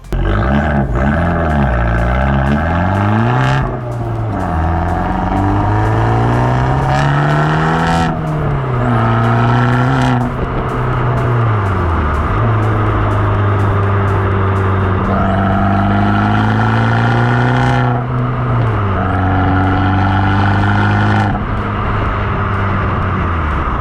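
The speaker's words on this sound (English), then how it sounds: "let's put our foot down and give you that lovely note" An Abarth with a full titanium Akrapovic valve-switched exhaust accelerates hard through several gears, its loud engine note climbing in pitch and dropping at each upshift, heard close and continuous with no talking.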